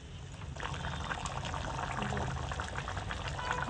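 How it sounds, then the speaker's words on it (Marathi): Pomfret curry with tamarind water simmers at a boil in a pot, a soft, steady bubbling and gurgling that runs evenly throughout, fairly quiet and close, with no one talking. "दोन उकळ्या चांगल्या येईपर्यंत शिजून घ्यायचं आहे."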